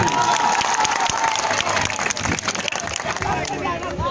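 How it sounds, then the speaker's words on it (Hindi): Dense, noisy cheering and clapping from a large crowd at an outdoor Odisha panchayat election campaign rally, with shouting voices mixed throughout; a loud, continuous wash of sound. "आउरी जोर ताली हेले गीत गाइबी"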